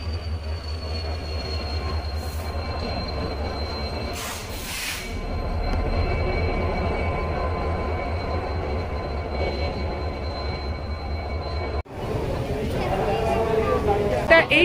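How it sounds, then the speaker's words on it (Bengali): Old long-distance express train from Howrah pulling into a station platform, a steady low rumble and rolling clatter with a brief screech near the start, heard alongside ambient station noise and voices. "এবার ট্রেন ঢুকছে।"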